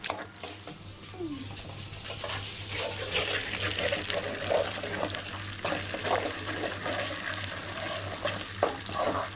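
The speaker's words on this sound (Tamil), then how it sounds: "நல்லா இஞ்சி பூண்டு பேஸ்ட் நல்லா வதக்கணும் நல்லா வதங்கட்டும்" Ginger garlic paste frying in a pan for a chicken liver and spleen fry, a continuous close hiss and crackle with occasional spoon stirs and a low background hum.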